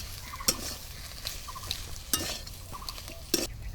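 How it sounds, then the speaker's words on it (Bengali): Tomato chop spice mixture with chopped coriander leaves being stirred in a pan, a few sharp spoon scrapes and clinks at irregular intervals over a low, steady cooking background. "ভালো করে নাড়াচাড়া করে মিশিয়ে নেব"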